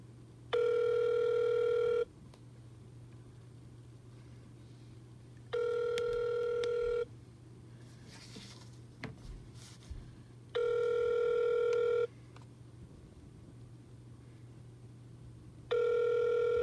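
Telephone ringback tone while a call is transferred, four steady electronic rings of about a second and a half each, evenly spaced with quiet gaps between and a low hum underneath.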